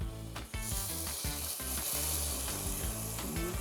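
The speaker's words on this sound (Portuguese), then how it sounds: "hora de colocar a cebola." Chopped onion hitting hot oil in a pan sends up a loud, steady sizzle that keeps going, with rhythmic low knocks from stirring or the pan underneath.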